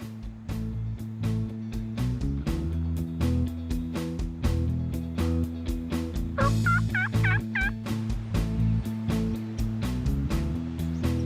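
Wild turkey toms gobble in repeated rattling bursts on an open field on a windy day, loud and fairly close, over a low steady rumble.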